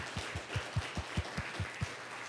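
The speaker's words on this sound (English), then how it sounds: "we'll give him a round of applause" An audience at a public policy camp keynote with Mayor Rusty Bailey gives a round of applause. Faint, even clapping is punctuated by regular low thumps roughly every fifth of a second, all at a low level.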